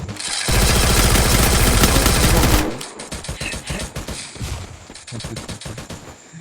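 Rapid automatic gunfire in a video game rattles loudly in a sustained burst, then gives way to scattered, quicker single and double shots, with faint voices in the background.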